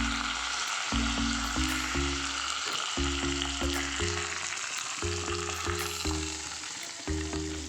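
Mustard seeds, urad dal and curry leaves sizzling in hot oil for a tempering, a continuous loud crackling fry with a low rhythmic humming tone pulsing underneath.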